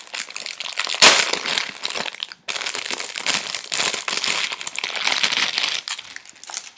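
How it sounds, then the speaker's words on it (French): Plastic packaging around a cat toy, a small fishing-rod wand with a green mouse, crinkles and crunches loudly and close up in a continuous stream of sharp rustling. "Désolée pour le bruit du plastique."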